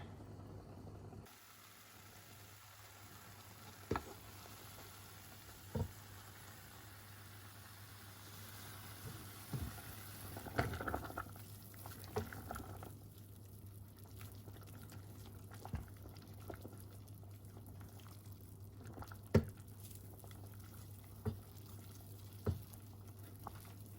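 Neem leaves boil in a pot of water, a quiet, low, constant simmer under a steady hum, broken by sparse individual bubble pops and light clinks spread across the stretch, with no voices.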